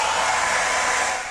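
A heat gun, hotter than a hair dryer, warms a knife blade while working under a bridge at a workbench; a steady, loud, close blowing hiss runs throughout with no talk, dropping slightly at the end.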